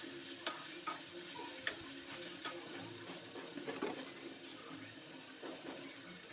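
Chili and turmeric powder frying in oil with salt in a pan, a steady soft sizzle broken by scraping stir strokes and faint clinks, fairly close and without any voice.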